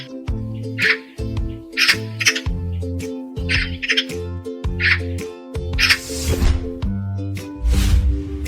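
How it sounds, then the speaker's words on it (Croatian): A cartoon Eurasian magpie gives a series of loud, harsh chattering squawks in repeated bursts, set over steady children's background music. "A ovo je svraka, ptica sa crno-belim perjem i dugim repom. Ona skače po granama, glasno grakće"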